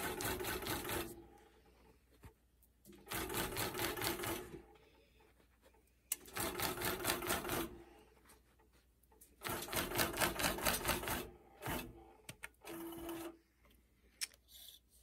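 A longarm quilting machine stitches in rapid mechanical bursts, running several seconds at a time, then stopping for quiet gaps while the machine is moved, close and clear.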